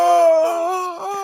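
A human voice imitates a creature's scream that turns into a roar, one loud, drawn-out howling cry that wavers and sinks in pitch.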